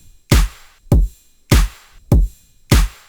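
An electronic house drum loop with kick, clap and snare plays five sharp, evenly spaced hits, each punchy with a deep low thump and a bright crack, alone with no voices.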